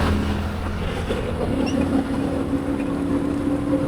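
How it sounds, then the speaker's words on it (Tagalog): Big motorcycles ride along a Sunday service road beside an expressway, a steady broad engine and road roar passing nearby with a rising, droning pitch. "Ang daming mga big bike"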